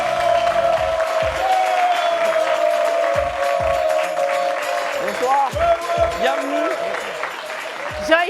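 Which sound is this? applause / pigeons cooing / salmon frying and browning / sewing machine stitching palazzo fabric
applause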